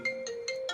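A mobile phone ringtone for an incoming call, a short clear electronic melody of a few tonal pulses, moderately quiet and alone.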